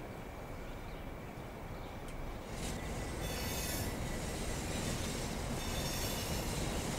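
A Class 465 train in Train Simulator 2020 rumbles steadily along the rails with a continuous wheel squeal and rolling clatter, loud and sustained throughout.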